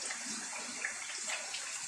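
Water poured into pig feed for mixing, a short, continuous splashing gush into a container, close and moderately loud, with no voices.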